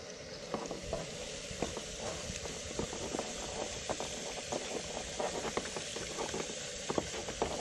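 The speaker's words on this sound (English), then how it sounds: "Turn on the water." Tap water runs steadily while crabs are cleaned, a soft continuous rush broken by irregular splashes and spatters as it strikes the shells and the basin.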